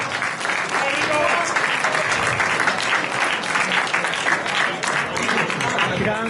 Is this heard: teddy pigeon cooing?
no